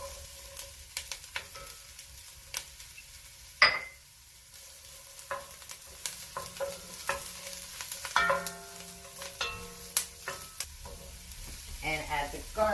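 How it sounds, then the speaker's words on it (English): Vegetables sauté in a pot for a vegan Irish stew, a soft continuous sizzle broken by the clicks and scrapes of a stirring spoon, close and fairly quiet, with a voice speaking now and then. "we're going to let these saute and kind of sweat for a couple of minutes"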